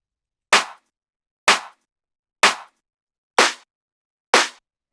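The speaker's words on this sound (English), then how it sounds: "So it's this clap." Five crisp, punchy claps from a deep tech house clap-snare sample, struck one by one at an even, roughly one-second pace, each bright and snappy with a short tail and silence between hits.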